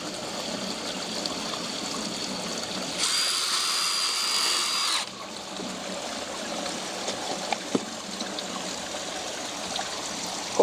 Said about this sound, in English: Well, I'm gonna drill another hole here.